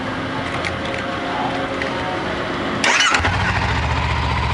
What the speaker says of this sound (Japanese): エンジンかけましょう